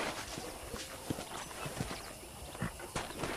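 Quiet, steady horse hoofbeats clip-clop at a walking pace over a dense background noise, fairly faint and without voices, in the video game Red Dead Redemption.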